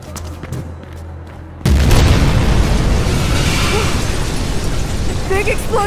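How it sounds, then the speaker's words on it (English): A big in-game explosion in the video game Mirror's Edge Catalyst erupts suddenly after a quieter stretch, a loud broadband boom that rolls on as a sustained rumble with debris-like crackle. "Big explosion!"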